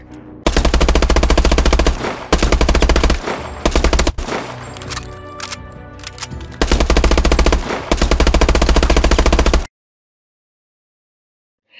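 Rapid automatic gunfire in the firing range of Call of Duty: Advanced Warfare, loud sustained bursts broken by brief pauses and a messier stretch of shots midway, then abrupt silence near the end.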